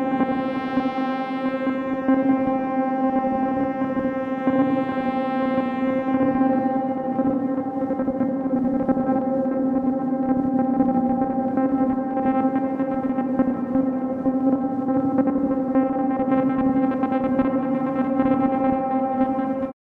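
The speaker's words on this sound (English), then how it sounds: "you can multiply the output of the delay to 2 VCAs for a stereo effect" An Erica Synths Black BBD analog delay, its output split to two VCAs for a stereo spread with reverb added, sustains a steady droning tone rich in harmonics, a slow swell drifting through the upper part, continuous and smooth throughout.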